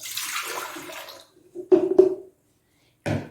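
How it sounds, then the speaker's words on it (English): A yeast and water mixture for homemade rolls pours into a mixing bowl, first as a steady splashy trickle and then as a few short, wet glugs and splashes, close by with no talking. "So I'm going to go in with my yeast water mixture."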